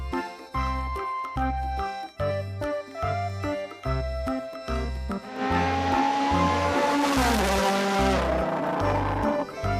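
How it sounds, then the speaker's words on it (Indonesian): A race car roars past with engine noise and a squealing skid of the tires, loud and sustained over a rhythmic music track with a pounding beat. "Mobil balap."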